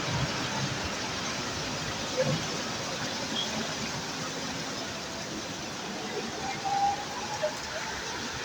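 Heavy rain pours over Satkhira Sadar town with water collecting on the roads, making a steady, dense hiss that stays even and unbroken throughout.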